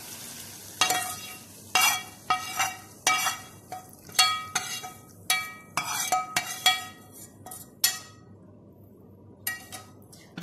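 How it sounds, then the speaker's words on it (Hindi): Hot tadka being poured over moong masoor dal, giving repeated sharp sizzling bursts with metallic clinks of a spoon as it is stirred, close and fairly loud with no talking. "इसको हम दाल के ऊपर डाल देंगे।"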